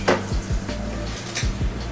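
Shiitake mushrooms sizzle in butter in a hot pan over medium heat, with a soft crackle of frying and a few light clinks and scrapes of stirring.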